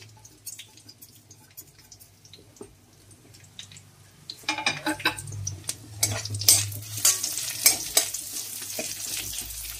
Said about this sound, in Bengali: এক এক করে মৌরি, জিরে আর জোয়ান এগুলো সব ভেজে নিব।